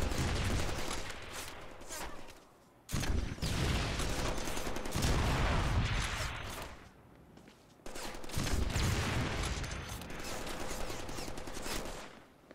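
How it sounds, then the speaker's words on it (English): Rapid blasts and explosive gunfire from a rocket launcher in the Deadpool Xbox 360 game, loud and dense in bursts separated by brief lulls, with sustained game combat noise and no clear talk. "Nice, we can get the rocket launcher."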